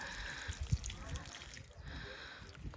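Liquid fertilizer is tipped from a container with a fixed spout onto garden soil, making a soft, continuous trickling and dribbling with a few small splashes, fairly quiet throughout.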